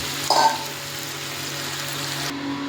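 Mutton going into a hot pan with a brief louder burst as the meat lands, then a steady close sizzle of frying that runs on alone before cutting off abruptly near the end.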